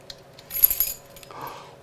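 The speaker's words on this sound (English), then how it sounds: "But Riley, we need my car keys over here." Car keys jangle briefly near the microphone, a short metallic clinking burst followed by a softer rattle in an otherwise quiet space.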